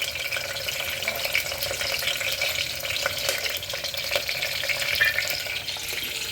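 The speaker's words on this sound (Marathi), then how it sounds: "कांदा टाकते, बारीक कापून घेतलेला" Finely chopped onion hits a hot pan of oil and fries in a steady, loud, continuous sizzle with no talking.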